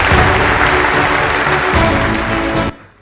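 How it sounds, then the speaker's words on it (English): Dense, loud applause from the audience at the e4m Prime Time Awards 2025 ceremony as Madison Media takes a silver award; steady clapping fills the room, then cuts off sharply near the end. "Let's give them a big, big round of applause."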